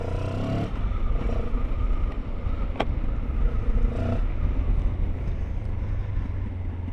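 A 2024 Benelli 702 X motorcycle engine running under way, a steady close drone with wind buffeting the microphone and a brief sharp click partway through.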